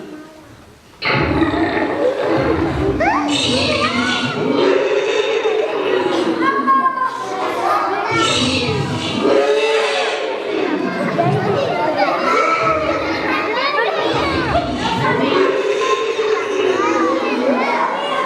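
A crowd of children shouting and screaming together, loud and continuous with overlapping high voices and yells, starting abruptly after a near-silent moment.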